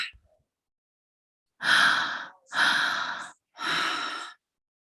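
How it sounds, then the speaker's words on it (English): Breathwork session: after a short pause come three long, forceful breaths, each a deep airy rush of roughly a second, close and clear with quiet gaps between them. "Belly breath, heart breath. Exhale, belly breath, heart breath, exhale."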